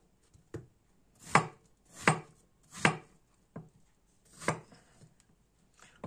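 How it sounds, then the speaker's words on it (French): A knife chops fruit into large cubes on a board, about eight distinct thuds in an uneven rhythm, close and fairly quiet with no talk. "Et je coupe en gros cubes."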